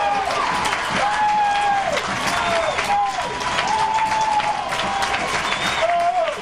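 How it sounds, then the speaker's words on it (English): A crowd at a high school football game applauds and cheers over a broad wash of clapping, while a commentator talks on top and a whistle-like tone sounds repeatedly. "Might be the loudest applaud I've ever seen for getting a touchdown scored against you"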